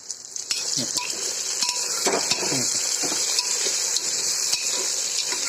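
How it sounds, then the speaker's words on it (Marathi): Ridge gourd being sautéed with masala in a pan, a soft continuous sizzle with spoon scraping and occasional clinks against the pan. "आता परतून घेते सगळा मसाला त्यामध्ये मिक्स कर"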